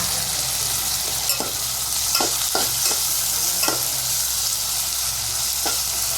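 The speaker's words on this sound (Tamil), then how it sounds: "இது அப்படியே ஓரளவு நல்லா வதங்கி வரட்டும்" Tomato and mint sauté in a pan with a loud, continuous sizzle, broken by a series of sharp spatula scrapes and clicks at uneven intervals, with no voices.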